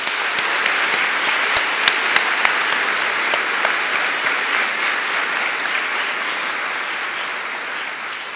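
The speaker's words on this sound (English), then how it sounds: "I'd like to acknowledge these wonderful Sanford faculty, staff, advisors, and mentors with a quick round of applause." An audience applauds faculty and staff at the Sanford School undergraduate diploma ceremony, a large, steady roar of clapping with a few sharp individual claps standing out near the start.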